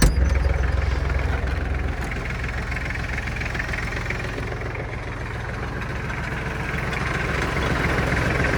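An Iseki Geas TG-253 Japanese mini tractor runs nearby with its PTO shaft and blades turning, giving a steady low engine drone with a rapid mechanical rattle throughout.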